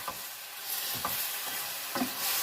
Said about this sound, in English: I want to get a good sear on the meat